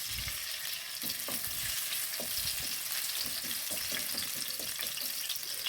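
Ginger and garlic frying in hot oil for Filipino-style chicken caldereta, a steady close sizzle with scattered crackles and light stirring scrapes throughout.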